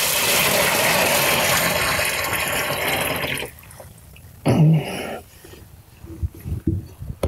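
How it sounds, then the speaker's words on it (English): Freshly boiled hot water pours into a container of supplemented hardwood substrate for growing lion's mane mushrooms, a loud rushing stream for a few seconds, then quieter splashes and knocks. "Got the water here, I'm just gonna pour it in."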